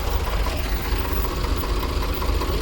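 A tractor engine idling near a trailer stuck in the mud: a steady, close, low diesel rumble with an even throb throughout and no voices.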